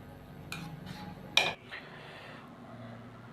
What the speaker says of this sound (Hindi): और अब हम इसको अलहदा बर्तन में निकाल लेंगे।